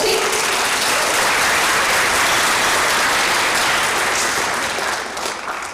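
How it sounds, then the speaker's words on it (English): A concert audience applauds an orchestra soloist at an honor orchestra performance, with loud, dense clapping sustained throughout that thins slightly toward the end. "Extra little applause for Ella"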